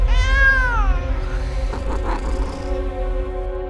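Human voice imitating a cat, one drawn-out wavering meow that slides down in pitch, followed by breathy vocal noises, loud and close with no other talk.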